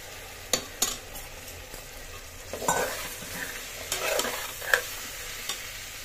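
Steady sizzling of guar beans frying with garlic in a pan, broken by scraping and clinks of a spoon stirring now and then.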